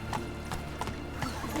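A horse galloping in The Witcher 3, with hooves beating out a quick, even clip-clop rhythm at moderate volume.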